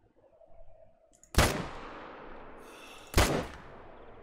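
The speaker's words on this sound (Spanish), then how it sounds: "Me la he jugado haciendo un disparo un poco random." Two sharp rifle shots in theHunter: Call of the Wild video game crack out about two seconds apart, each loud with a fading echo tail against a quiet outdoor backdrop.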